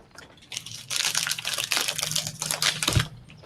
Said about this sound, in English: No, it's just a really loud, crinkly package.